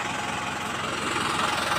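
Tractor engines idling as they warm up, a steady low rumbling drone with slight knocking that stays constant and fairly close throughout, with no talk over it.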